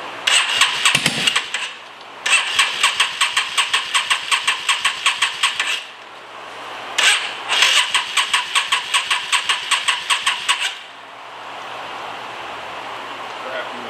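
A Yamaha V-Star bobber motorcycle engine cranks in repeated rapid bursts of starter churning, stopping and restarting several times before settling into a low steady running sound at the end.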